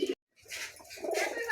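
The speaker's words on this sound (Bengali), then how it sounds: "খুবই চমৎকার একজোড়া কবুতর, ভালো লাগলে অবশ্যই সংগ্রহ করতে পারেন।" A pair of pigeons coos close by in soft, throaty rolling calls, one brief call, a short silence, then longer overlapping coos that swell and continue to the end.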